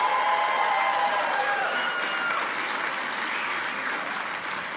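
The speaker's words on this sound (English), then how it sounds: "Clap a round of applause if you're married" Married members of a comedy show audience in Provo, Utah, burst into loud, sustained applause that fills the room and fades only slightly toward the end.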